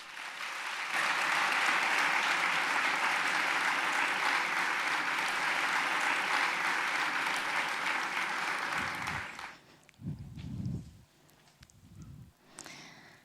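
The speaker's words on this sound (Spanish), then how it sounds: "Un fuerte aplauso para ella." Sustained audience applause for a speaker introduced at a talk, loud and dense for about nine seconds before breaking off, followed by a few scattered low thumps and rustles.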